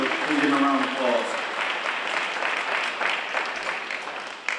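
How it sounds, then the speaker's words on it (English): Audience applause at a senior awards ceremony, a sustained burst of many hands clapping that fills the room at steady loudness after a voice speaks briefly over its start. "please give him a round of applause"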